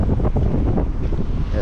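Large ocean waves near a fishing outrigger boat on the shore, a steady low rushing surge of surf and wind buffeting the microphone throughout, loud and close with no clear speech.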